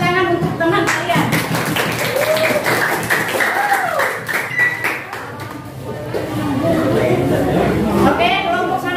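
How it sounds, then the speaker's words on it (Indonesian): Classroom clapping for classmates after a group presentation, a steady rattle of many hands close by with a teacher and students talking over it throughout. "Oke, tepuk tangan untuk teman kalian."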